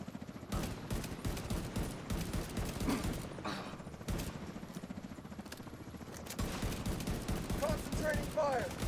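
Rapid video-game gunfire rattles in dense, repeated automatic bursts with few pauses, mid-level in loudness, while voices call out commands over the shooting.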